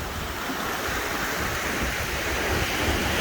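Ocean surf beside a villa deck at Sanctuary Cap Cana, a steady broad wash of waves mixed with wind buffeting the microphone, close and continuous without speech.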